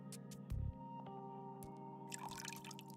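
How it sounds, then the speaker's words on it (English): Water drips from a running bathroom faucet in Goddess of Victory: NIKKE during its Resident Evil crossover: a few scattered, soft drips over a steady, humming ambient drone. "Drip, drip, drip, drip, drip,"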